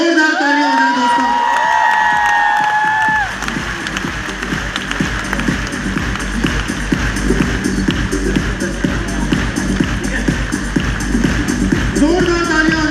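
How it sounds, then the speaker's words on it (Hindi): An awards event crowd in Delhi bursts into sustained clapping and cheering, a dense, loud wash of applause that follows a host's voice at the start and carries on steadily to the end. "जोरदार तालियां हो जाए दोस्तों।"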